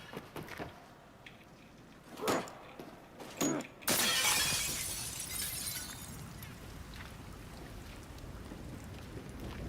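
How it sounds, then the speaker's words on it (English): Steady broadband rain hiss in the video game Battlefield 2042, with a few sharp bursts early on before the light, even downpour settles in and continues at a constant level. "you can just hear the rain"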